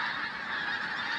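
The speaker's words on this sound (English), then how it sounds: "the whole bins are just filled with geese" A flock of pink-footed geese honks continuously at Flitcham in January, a dense, steady chorus of many overlapping calls filling the whole moment with no talking.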